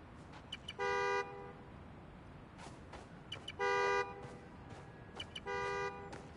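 A car horn in the video game Spider-Man: Miles Morales honks three times from a key fob, short, evenly spaced bursts, each about half a second, over faint background noise.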